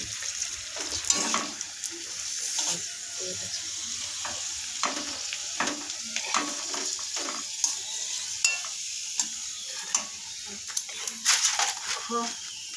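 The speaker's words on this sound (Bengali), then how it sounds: "তো ভাজছি ফুচকো" Fuchka puff and fry in hot oil, a constant close sizzle punctuated by sharp stirring and scraping clicks as they are turned in the pan.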